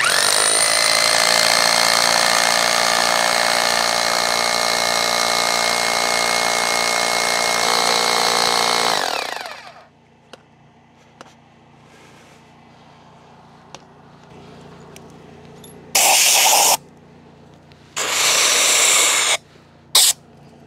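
Compressed air blasts debris out of drill holes bored for anchoring adhesive on a wind turbine build, a loud continuous hiss for about nine seconds, then quiet, followed by two shorter bursts of air.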